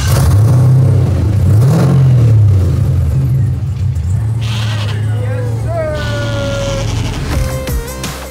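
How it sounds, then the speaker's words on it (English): Race car engine on a shakedown drive, loud and close at first, then tapering off with a steady low drone while people talk over it. "So we're just shaking down the car."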